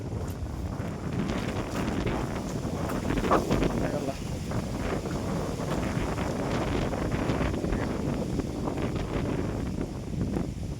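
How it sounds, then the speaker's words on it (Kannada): Strong wind roars steadily across a hill road at Kotebetta in Coorg, a loud, constant rush buffeting the microphone, with a brief spoken phrase over it. "ತುಂಬ ಗಾಳಿ ಇದೆ."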